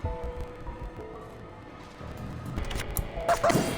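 A small puppy in the game Reverse: 1999 gives a few soft, short yips and barks at moderate distance over a quiet background, growing a little busier toward the end.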